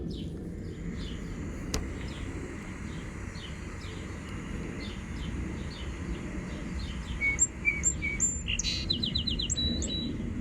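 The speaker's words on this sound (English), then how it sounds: "try to tell me if you can see, if you have heard this song sparrow before" A song sparrow singing in a backyard, its bright trills and notes rising near the end over a steady low rumble of wind and a distant airplane.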